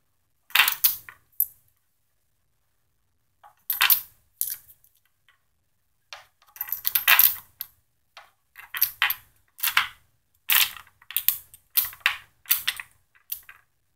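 Rounds clicking one after another into a Russian Izhmash steel AK-47 magazine through a magazine loader, a loud close series of sharp metallic snaps in quick bursts separated by short pauses.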